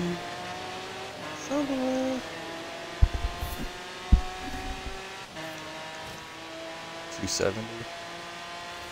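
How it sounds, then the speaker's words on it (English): Car engines roar and rev through a drag race in the Forza racing video game, with steady engine drone and a few sharp bursts, heard under someone talking. "Guess who wins this drag race?"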